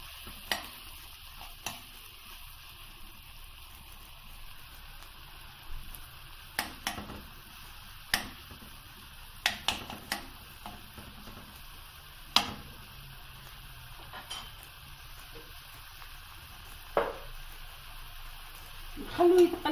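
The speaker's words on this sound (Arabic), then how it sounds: "نضيفوا له قلو البصل، كنت سخنت المقلاة من قبل." Onions frying in a preheated pan for a spinach tart, a soft steady sizzle broken by repeated sharp clicks and scrapes of stirring spread across the stretch.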